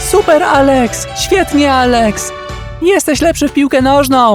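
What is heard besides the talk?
None of the usual background noises is heard.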